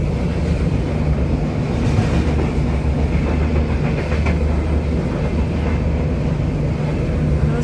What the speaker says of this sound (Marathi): हे बघा ट्रेन आली क्रॉसिंगवाली